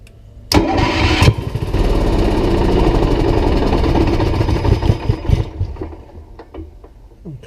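An Onan 4000 generator engine cranks hard for about five seconds with a loud, close, steady churning, then sputters and winds down into scattered knocks without catching.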